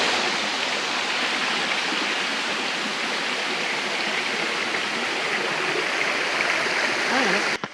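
Water rushing over a large waterfall makes a steady, loud, broadband roar that carries on unbroken throughout.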